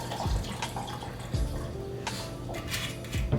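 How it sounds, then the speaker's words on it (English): Cruzan rum being poured into a dairy-free vegan coquito mix made with sweetened condensed coconut milk, a steady close liquid trickle with a few small splashes and clinks, no talking. "So I'm gonna pour some rum in here."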